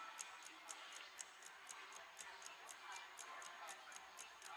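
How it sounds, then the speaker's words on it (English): A clock on a bedroom wall ticks in a steady, even rhythm of roughly three ticks per second, faint and crisp over a soft hiss of room noise, with no talking. "I can hear a clock on my wall."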